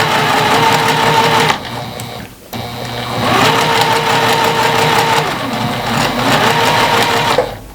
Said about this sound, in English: I'm actually sewing a bucket hat